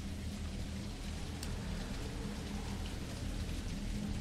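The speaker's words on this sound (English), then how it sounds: "Oh, like the rain's like hitting the car." Rain pattering steadily on a car in a video game, a dense continuous hiss of drops with a deep low rumble underneath, even in level and close throughout.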